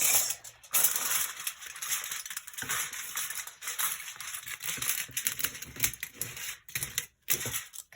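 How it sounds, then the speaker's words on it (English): Cardboard being cut into squares for a homemade picture frame: continuous close scratchy cutting and crunching, with a few brief pauses between strokes. "I'm just going to cut like this."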